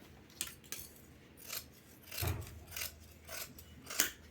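Scissors cutting blouse cloth by hand, a series of separate crisp snips and rasping slides at irregular intervals, close and fairly quiet with no voices.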